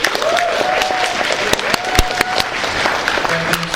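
A convention panel audience applauds and cheers to vote for Joffrey, making a steady wash of clapping with a few whistles.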